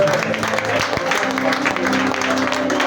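A congregation claps during a prayer session, steady rhythmic applause close by mixed with sustained musical tones and voices underneath.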